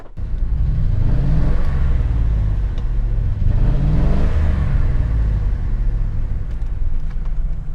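A Ford F150 truck engine runs loud and steady, its pitch rising and falling in repeated revs with a rumbling, whirring tone and no voices.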